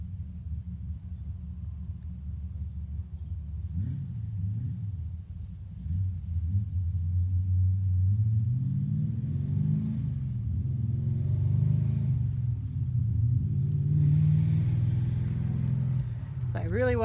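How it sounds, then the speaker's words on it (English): Cars driving past on a rural road near a house set back from it, a low rumbling swell as vehicles approach and pass, building to louder passes late on. "noisy cars on this road today"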